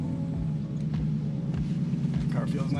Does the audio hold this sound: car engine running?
yes